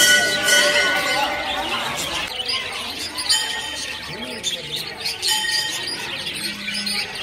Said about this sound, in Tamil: இங்கே வந்தீங்கன்னா லவ் பேர்ட்ஸ் தான் இருக்கு.